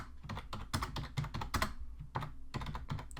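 Rapid, irregular keystrokes on a computer keyboard as custom button text is typed, close and clear with no voices.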